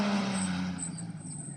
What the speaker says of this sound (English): here's the other loud car, the Exige